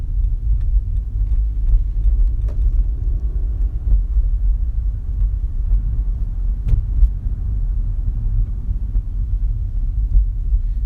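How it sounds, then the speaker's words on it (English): Low engine and road rumble fills a car's interior while driving, a steady droning hum with faint ticking clicks and no talk. "I can hear my car making all that noise"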